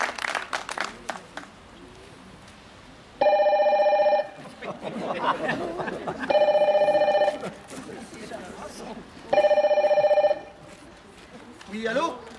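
A telephone bell rings three times in even bursts, each a steady electronic trill lasting about a second, separated by pauses filled with chatter and background sounds; voices are heard between the rings.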